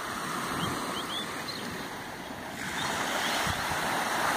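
Ocean waves break on a fine-sand beach in Cornwall, a steady wash of surf that swells louder in the second half, with light wind buffeting the microphone and no voices.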